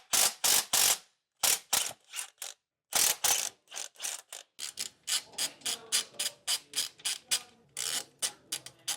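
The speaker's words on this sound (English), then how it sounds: "Now we'll take our U-bolts out of our leaf spring. This will be a 19mm socket." A ratchet with a 19mm socket removes leaf spring U-bolts during a Roadmaster Comfort Ride suspension install, giving close, loud bursts of rapid clicking separated by short pauses, then a longer run of quicker clicking strokes.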